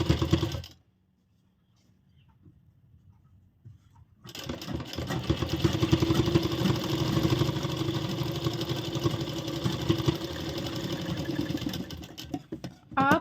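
A sewing machine stitches an umbrella frock with an angrakha pattern. After a brief start and a near-silent pause, it runs in a steady, fast, close mechanical whir for about nine seconds, then stops abruptly.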